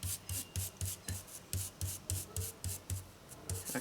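Rhythmic rubbing strokes over a fabric stencil on paper, about a dozen soft, close, evenly paced swishes in steady back-and-forth succession.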